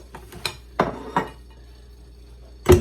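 Rhubarb flaugnarde batter being mixed in a bowl with a rubber spatula, heard as a few sharp clinks and knocks against the bowl, spaced out with quiet gaps and a louder clatter at the end.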